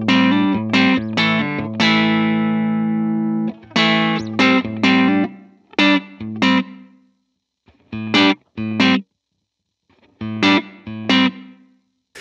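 Electric guitar played through a digital effects processor with reverb turned off, sounding distorted and sustained: a long ringing chord followed by a series of short, punchy staccato chord stabs separated by brief silences.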